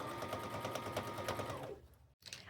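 A sewing machine runs a continuous stitching seam around the edges of a homemade purse made from jeans and quilt fabric, a steady close whirring that stops briefly near the end before starting again.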